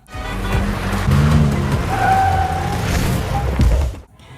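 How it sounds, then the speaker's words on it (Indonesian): A car engine roars as tires squeal through a long, loud skid, the screech holding for several seconds before cutting off abruptly. "Zulu membawa mereka pergi dengan mobilnya, namun mobil mereka dibuntuti oleh pasukan Quan Chi yang mengejar mereka."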